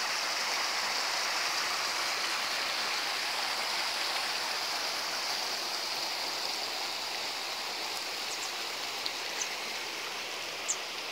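Water flows steadily at the springs of the Enipeas river just outside Neraida village in mountainous Ilia, Greece, a continuous close hiss and rush with no breaks or voices.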